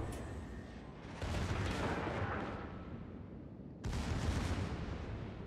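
Battleship guns fire in a naval video game with heavy, sustained booming rumbles, two long loud blasts back to back that fill the mix, with no voices over them.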